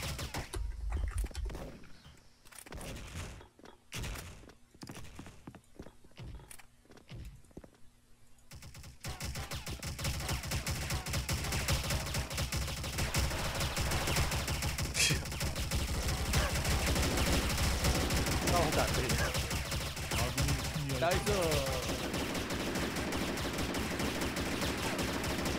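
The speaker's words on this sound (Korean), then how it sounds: "말소리도 안 들리고 총소리밖에 안 들려." Gunfire fills a Special Force online shooter match: scattered sharp shots and short bursts for the first several seconds, then a loud, nearly unbroken barrage of automatic fire that keeps going to the end.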